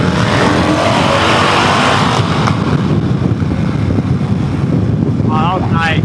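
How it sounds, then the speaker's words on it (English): A motorcycle engine roars loudly and steadily under heavy wind buffeting, with a brief rise in pitch near the end. "Rev it, give it a rev."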